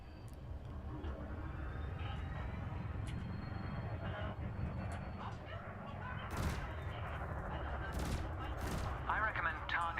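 Spaceship weapons fire at target drones in a space combat video game, a rapid stream of blaster shots over steady engine rumble, with a few sharper bursts and some game chatter.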